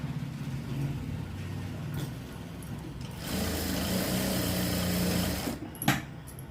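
A sewing machine runs in steady whirring bursts while stitching the shoulder seam of a blouse, pausing briefly before a longer, louder run and a final clack.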